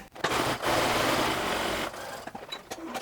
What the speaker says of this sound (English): We're going to finish that with a 1/4-inch seam.